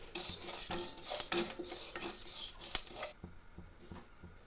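Fenugreek and cumin seeds dry-roasting in a pan make scraping, clinking stirring noises and light patter, fairly quiet and close, with the stirring stopping near the end and leaving a soft, faint remainder.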